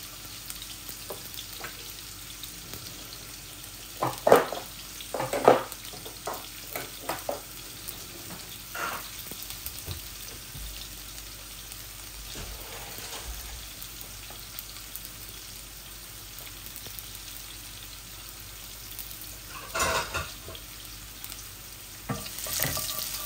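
Cumin seeds and four cloves of garlic fry in oil in a pan, giving a low continuous sizzle with a few louder bursts of stirring and scraping and no voices.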